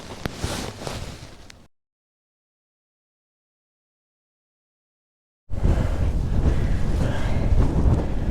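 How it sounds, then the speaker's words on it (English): Loud, rumbling wind buffets the microphone, cutting out into a few seconds of silence before the gusty roar returns strongly. "It's quite windy, as you can probably hear."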